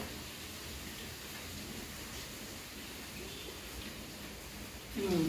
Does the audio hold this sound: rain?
yes